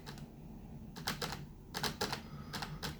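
Keys typed on a computer keyboard with a soft, not overly clicky action, beside a high-end gaming PC: clustered bursts of keystrokes come in short runs separated by brief pauses, close and fairly quiet over a low steady hum.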